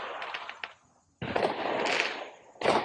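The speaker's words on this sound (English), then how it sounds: "And we got fireworks going off." Fireworks burst outdoors as a series of sharp crackling bangs and fizzing sputters, the loud bursts separated by a brief quiet gap.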